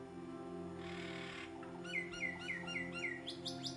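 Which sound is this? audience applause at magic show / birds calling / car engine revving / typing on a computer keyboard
birds calling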